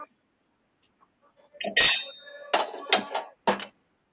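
Kitchen pots and dishes clinking and clattering during cooking, a few sharp metallic knocks in short bursts at close range, with a faint voice before them.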